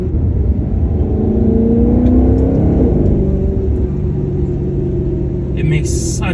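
Maserati GranTurismo with a 4.7-litre naturally aspirated Ferrari engine, a loud close deep rumble that rises in a rev and then settles back to idle, with a brief high squeak near the end.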